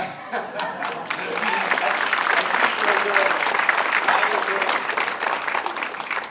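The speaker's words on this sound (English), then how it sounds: "Everyone should give a round of applause to Natalia" An audience at a political panel event applauds in a dense, sustained wash of clapping, with a voice talking over it.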